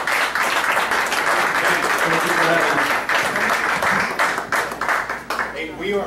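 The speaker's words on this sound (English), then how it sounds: "let's give all of our candidates a round of applause" A church audience at a candidates' meet-and-greet gives a sustained round of applause, a dense wash of clapping that slowly thins toward the end, with voices mixed in.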